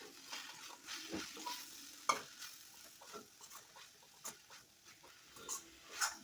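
Chicken sautés with chilli powder in a pan for cutlets, giving a soft, faint sizzle broken by repeated scraping strokes of a spoon stirring through the mixture. No voices are heard.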